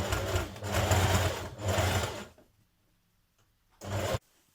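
A sewing machine running top stitching along the bottom of a skirt yoke, two sustained whirring runs close by, a quiet pause, then a short final burst.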